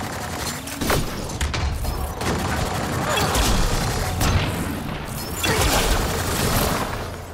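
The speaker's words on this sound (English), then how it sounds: "Fire combo" Combat bursts from a Mass Effect Andromeda battle with a Krogan brawl, where a fire combo detonates; repeated heavy booming blasts and crackling impacts arrive in several waves over a continuous loud fight din.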